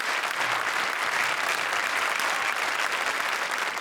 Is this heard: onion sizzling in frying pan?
no